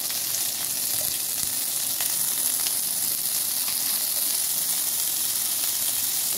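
Pointed gourd (potol) fries in oil in a pan, a steady, moderate sizzle and hiss with occasional small crackles, running without pause throughout.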